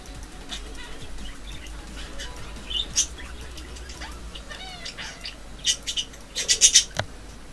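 A pet parrot sings indoors, giving scattered chirps and whistles that build into a quick cluster of sharp, fairly close calls near the end over a low background hum.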